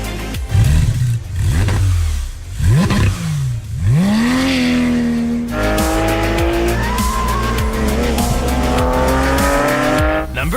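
A Porsche 911 GT3 RS races hard, its engine revving and rising through the gears with tires squealing, then a sustained high-pitched wail at speed, loud and close.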